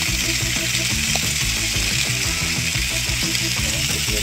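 Beef entrecote steak fries in butter with rosemary, a loud steady sizzle and crackle filling the whole moment without a break.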